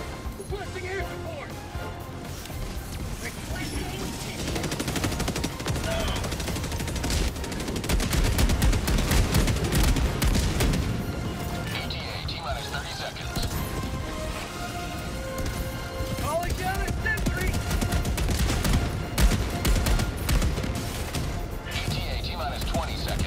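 Sustained automatic gunfire and explosions in the shooter game Helldivers 2, dense rapid bursts throughout at a steady loud level, with players talking over the combat.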